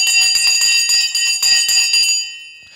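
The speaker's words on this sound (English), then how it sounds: "The bell has rung and we are off." A stock market opening bell rings in a rapid, steady series of metallic strikes for about two seconds, then cuts off and leaves a ringing decay that fades away.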